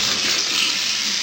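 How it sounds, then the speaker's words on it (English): A kitchen sink food disposal runs with water flowing, a steady broad rushing hiss that stays loud and close throughout without a break. "That's the food disposal."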